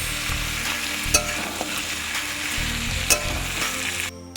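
Vegetables sauté with cumin powder in a hot pan, a dense steady sizzle broken by stirring scrapes and a couple of sharp utensil knocks, close and loud with no talking.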